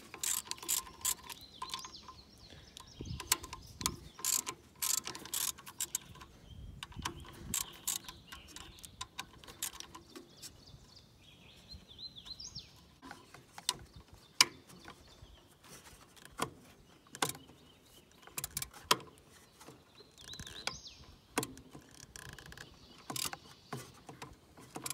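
Socket ratchet working bolts loose on a tractor alternator, quiet irregular clicking bursts and small metallic handling knocks scattered throughout.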